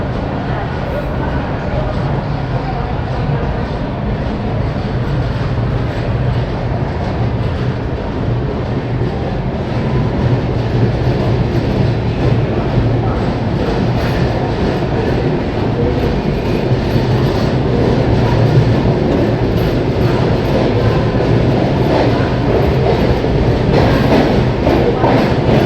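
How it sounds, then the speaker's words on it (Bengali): The Howrah–Agra Cantt Chambal Express pulls out of Gwalior station: a loud, steady rumble of rolling rail cars and wheels on track holds throughout without a break. "3-4 মিনিট দাঁড়ানোর পর গোয়ালিয়র স্টেশন থেকেও ট্রেন ছেড়ে দিয়েছে।"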